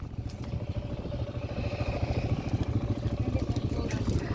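A four-wheeler ATV engine runs nearby at a low, steady idle, a throbbing mechanical rumble with faint clatter that swells slightly toward the end, heard on a cattle farm.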